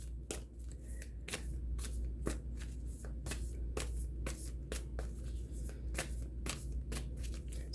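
Tarot cards being shuffled by hand, a continuous run of crisp flicking riffles and soft slaps close to the listener, repeating rhythmically with no talking.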